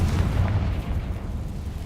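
A Confringo blasting spell explodes in Hogwarts Legacy, a deep rumbling boom that rolls on for about two seconds without talk.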